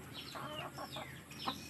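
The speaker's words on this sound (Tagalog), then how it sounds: "Ang pinakawalan ko na dito yung mga native natin na inahin." Native breed hens cluck softly in a few short bursts in a small backyard poultry farm, fairly quiet against a faint background hiss.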